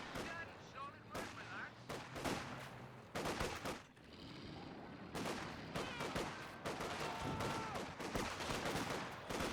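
Gunfire and explosions in Company of Heroes 2, the World War II real-time strategy game, with repeated sharp bursts and shots over a constant battle din throughout.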